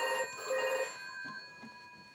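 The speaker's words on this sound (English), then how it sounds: "Yeah, that'll be the phone." A telephone rings indoors with a bright, sustained bell-like trill that sounds once and then decays, with no talking.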